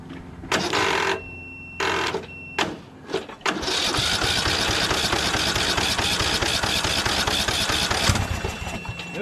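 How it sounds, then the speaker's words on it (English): A Briggs 12.5 HP SOHV engine on a Poulan XT PXT12538 lawn tractor cranks in several short starter bursts, then a long steady whirring crank for several seconds, loud and close. "let's crank it and see if it turns over."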